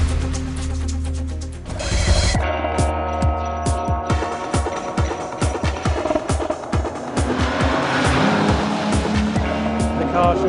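An Aston Martin V12 Vantage race car roaring loudly nearby at the Nürburgring, engine note shifting as it passes and accelerates, with rapid mechanical rattles throughout.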